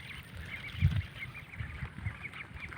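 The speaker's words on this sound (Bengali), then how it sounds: "ওই যে আমাদের হাঁসগুলা নিয়ে খেতে আইছি, হাঁসের গোসল করাইতে।" Domestic ducks being taken to a flooded field in rural Kishoreganj, Bangladesh, quack and honk repeatedly at close range over steady outdoor ambience.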